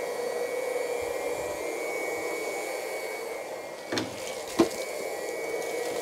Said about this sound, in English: So we're gonna turn on our pump here, low pressure pump.